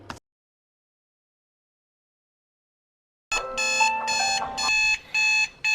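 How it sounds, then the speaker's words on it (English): A digital alarm clock rings after about three seconds of silence, a loud repeating electronic beep pattern in bursts with short gaps between them, close and alone. "The amount of times I snooze my alarm is ridiculous."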